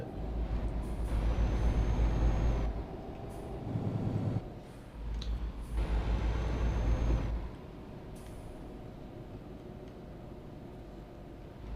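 A bus driving past in Euro Truck Simulator 2 on a Turkish-style map: engine rumbles swelling and fading in two close passes, with a steady road drone continuing afterward, no talk.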